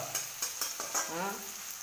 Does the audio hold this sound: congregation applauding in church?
no